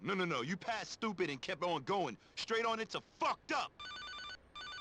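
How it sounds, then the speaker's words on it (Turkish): A telephone rings in the video game GTA Vice City Stories, a steady repeating electronic ring pattern that comes in after a stretch of close speech, with a short gap between bursts. "Aa telefon çalıyor."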